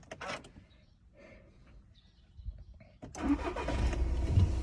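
Volkswagen Passat B7 engine starting: after some quiet handling noises and a few clicks, the starter catches at once and the engine settles into a loud, rough idle close by.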